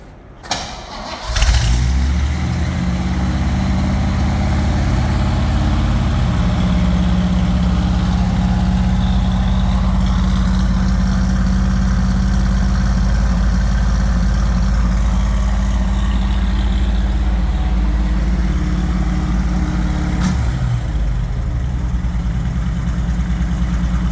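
A 1962 Chevrolet Impala cranks briefly and catches, then settles into a steady, loud, close idle that holds without a break, apart from a small dip near the end.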